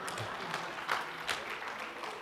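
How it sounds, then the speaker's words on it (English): Faint, distant applause from an audience at a talk, a steady soft patter with a couple of slightly louder swells, low and muffled throughout. "Definitely applause there."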